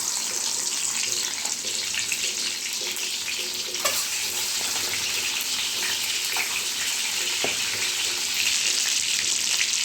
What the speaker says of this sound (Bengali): ডিমটা দিয়ে দিয়েছি, এবার ডিমটা ভালো করে ভেজে নেব।